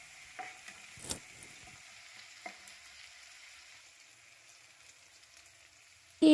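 Onions fry with salt in a pan in a home kitchen, a soft steady sizzle broken by a few small stirring clicks, quiet and close.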